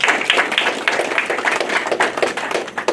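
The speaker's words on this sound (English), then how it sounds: "Give yourselves a round of applause for that." Health-center staff at an all-staff meeting break into applause, a dense crowd of clapping hands that stays loud and steady throughout with no voices over it.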